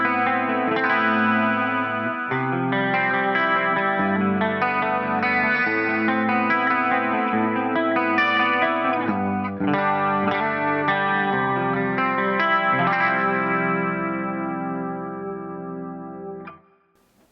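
An Axe-Fx III guitar preset set to pedal mode 3 after the amp rings out in chorused, echoing chords and melodic lines, sustained and loud, fading away near the end.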